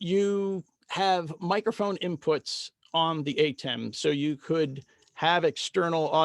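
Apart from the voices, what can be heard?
No everyday noise stands out behind the speech.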